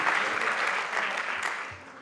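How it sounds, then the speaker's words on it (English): Audience at a college policy conference clapping, dense and even applause that holds steady and then fades slightly toward the end. "So I think you must clap hands for her."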